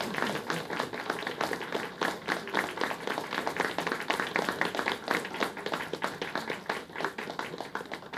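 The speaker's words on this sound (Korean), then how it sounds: "전달하면 돈이 전달되고 박수로 크게" Applause for the pastor at a church founding thanksgiving service: a congregation claps steadily and densely throughout, a sustained indoor crowd applause with no pause.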